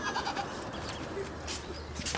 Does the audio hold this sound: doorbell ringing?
no